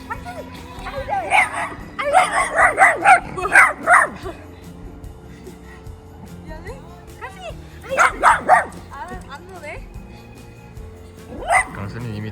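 A dog barks in several loud bursts during play with another dog, with a cluster early on, another a few seconds later and a single bark near the end, while people talk in between.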